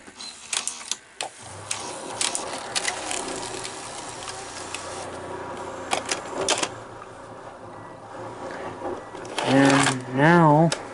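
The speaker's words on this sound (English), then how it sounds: "We'll hit eject." Sony SL-HF2100 video recorder ejecting a tape: a run of mechanical clicks, clunks and whirring transport noises, close and fairly loud, with a brief voice near the end.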